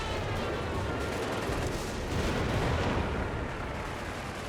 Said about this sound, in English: Oh, more artillery.